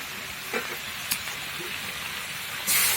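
Malabar spinach and dried shrimp sizzle in a pan as they are sautéed, a steady hiss broken by a few light clinks of stirring and a louder burst of sizzle at the end; no one talks.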